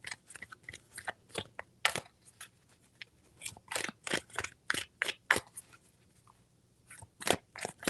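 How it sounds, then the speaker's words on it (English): Tarot cards are shuffled by hand in a cold garage, a run of sharp papery riffles and snaps coming in irregular bursts with short pauses between, near and fairly loud, no talking. "3 shuffles."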